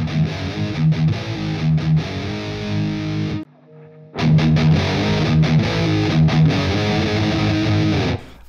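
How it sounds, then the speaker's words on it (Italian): Electric guitar played through a small mini amplifier with its compression and distortion control engaged, giving dense, gritty chords and riffs with a short near-silent break in the middle before the playing resumes loudly. "Quello che fa è andare a aggiungere una specie di compressione e distorsione aggiuntiva sulle frequenze basse"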